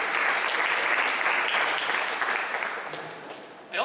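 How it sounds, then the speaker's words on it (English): Audience applause at a startup pitch event, dense steady clapping from a crowd that carries through nearly four seconds before tapering slightly at the end, with no voices on top. "Please, a round of applause for them."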